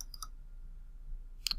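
Computer mouse clicks while setting up a page: two quick clicks at the start, then a short double click near the end, faint and without any talk over them.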